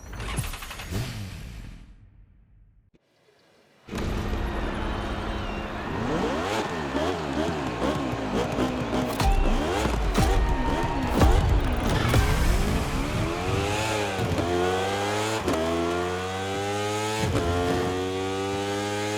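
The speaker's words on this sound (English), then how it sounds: "Now, time to unleash the moto racing power." Racing motorcycle engines in The Crew Motorfest, loud and close: after a brief lull the bikes roar to life, revving up and down through rapid gear changes, with rising whines and sharp shifts that build toward a sustained high-revving race.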